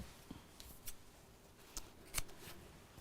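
Scissors cutting fabric while sewing a small box bag, a few quiet, sparse snips with light rustling between them in a soft, quiet room.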